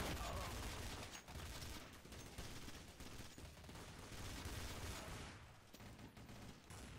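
Gunfire in the video game Counter-Strike: Source: a continuous, dense rattle of shots at steady loudness that sounds like sustained automatic fire through the whole stretch, with faint voices beneath.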